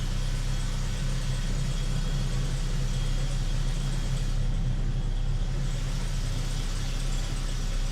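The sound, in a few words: old truck engine running after six years idle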